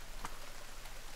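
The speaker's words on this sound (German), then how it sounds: "gut, dass es regnet" Rain falling in The Forest video game, a faint soft patter with a couple of brief drop-like ticks over low steady noise.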